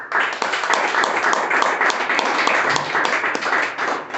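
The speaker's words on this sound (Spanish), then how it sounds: "Denle el aplauso." A church congregation breaks into sustained applause, a loud, even wash of many hands clapping together that holds steady for several seconds.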